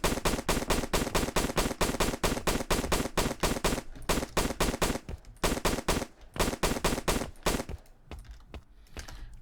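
Rapid automatic gunfire from a weapon in a Unity first-person shooter game, a loud, evenly spaced stream of close shots that breaks into shorter bursts and single shots near the end.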